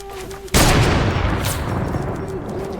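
Fortnite gunfire: a single sharp, loud blast cracks in close, then rings out into a broad, noisy decay lasting a couple of seconds, with faint game tones behind it.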